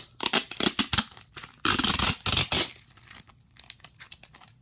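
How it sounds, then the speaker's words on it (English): Protective top layer being peeled off an iPad Mini accessory, a close series of crisp tearing and crinkling rips in short bursts, with a longer loud peel in the middle before trailing off into quiet rustles. "Now let's peel the top part off"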